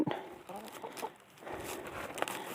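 Laying hens kept in a backyard flock in the United States give soft, scattered clucks and low murmurs, faint and close by, with light rustling and no talk.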